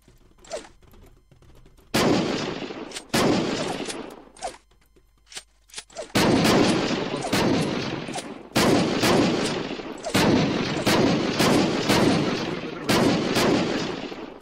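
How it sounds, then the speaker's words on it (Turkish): Bombs go off one after another during a raid in the video game Unturned, a string of loud, booming blasts in quick bursts, each ringing out briefly before the next. "Tam patladı"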